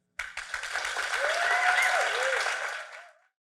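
A storytelling event audience gives a sustained round of applause that swells to a dense, steady roar of clapping, then tapers off and fades out after about three seconds.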